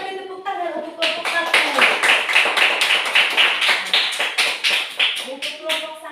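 Group applause in a classroom, a steady run of close hand claps lasting several seconds, with voices audible at the start and end.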